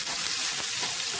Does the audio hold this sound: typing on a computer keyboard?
no